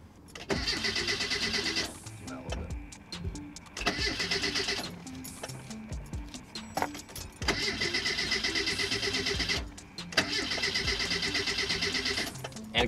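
A racecar with an empty fuel tank cranks repeatedly without starting, the starter motor whirring in four long bursts separated by short pauses, close and clear.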